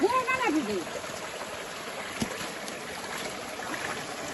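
A hillside spring stream in a Konkan village flows and trickles steadily in a soft, continuous rush, with a voice speaking briefly at the start.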